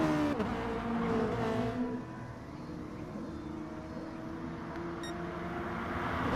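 Race cars in a racing video game drone past with engine whines that rise and fall, several overlapping near and far. The sound is fairly faint, with a brief high tone near the end.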